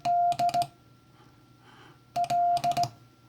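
Morse code letter L keyed on iambic paddles as a clean sidetone beep, sent twice in short rhythmic dit-dah-dit-dit bursts with a quiet pause between, close and loud.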